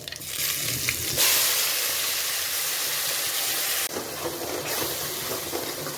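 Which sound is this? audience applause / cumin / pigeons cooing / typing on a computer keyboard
cumin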